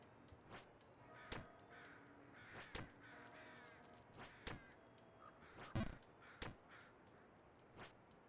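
Repeated caws of a crow-like bird in the platformer Jump King, scattered sharp calls spread irregularly over several seconds alongside soft clicks and game effects, fairly faint and with no talking.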